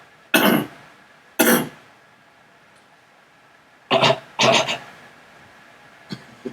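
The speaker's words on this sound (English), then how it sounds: "Can you cough? How do you cough?" A person coughs alone in short, harsh bursts: two single coughs, then a quick double cough, with a couple of faint throat sounds trailing after.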